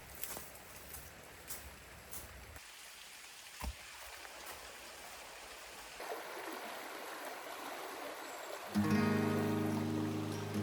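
A cold river flows in a summer wilderness, a steady close rushing wash that shifts in texture and swells louder toward the end, with no talking.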